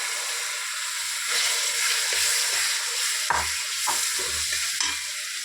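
Lemon pieces stirred into frying spices in a pan: steady close sizzle with scraping stir strokes and a few sharper clatters of the spoon, no talking.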